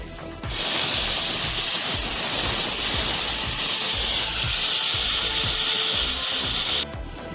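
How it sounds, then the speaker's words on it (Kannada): A pressure cooker holding goat leg soup lets off a loud, continuous whistle of hissing steam that lasts about six seconds before cutting off sharply, heard close with no voices. "ನೆಕ್ಸ್ಟು ಎರಡು ವಿಷಲ್ ಆಗೋವರೆಗೂ ವೆಯ್ಟ್ ಮಾಡೋಣ"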